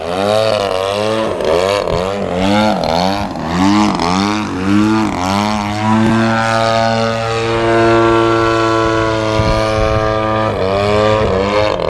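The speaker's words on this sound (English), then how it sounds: "keeping the plane up by giving it a burst of throttle so it won't stall" A radio-controlled model airplane's engine in a rolling harrier manoeuvre, loud and close, its pitch sweeping up and down in rapid throttle bursts before settling into a steady drone.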